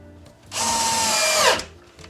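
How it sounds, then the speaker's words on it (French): A power drill drives a screw home in one steady, loud whine lasting about a second, with quiet background before and after. "Une fois que c'est fait, je viens visser."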